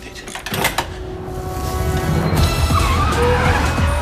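A small car in the film Austin Powers in Goldmember drives by with loud engine noise and tire squeal, a steady, busy roar that builds across four seconds over a cluttered soundtrack.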